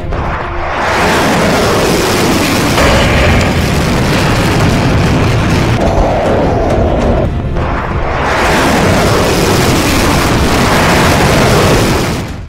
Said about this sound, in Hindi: 500 किलोमीटर रेंज वाली इस्कंदर मिसाइल जहां गिरती है वो 700 किलो वाले विस्फोटक से धमाका करती है।